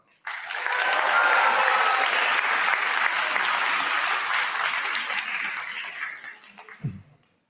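A conference audience at a national ICT security discourse grand final claps loudly and steadily to welcome a team's technical expert, a full burst of applause that swells, holds, then tapers off near the end.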